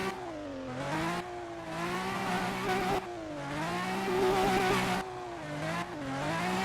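A car drifts in a video game, its engine revving loudly in repeated rising and falling surges with brief cuts between pulls, close and continuous.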